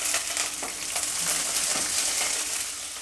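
Cumin seeds crackle and sizzle in hot oil, a steady, close frying hiss with small pops, heard alone for a few seconds.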